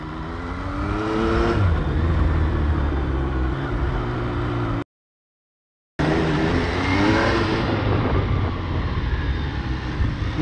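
An MV Agusta Brutale 800 motorcycle engine revs and roars continuously up close, with rising pitch sweeps, cutting out briefly midway before roaring again.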